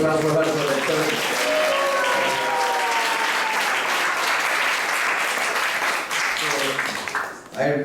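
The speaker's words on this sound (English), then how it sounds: "Let's give a round of applause for her for that." A congregation at a Sunday class in a Hare Krishna temple applauds warmly, a steady, fairly close patter of many hands that holds for several seconds with some voices underneath before tapering off.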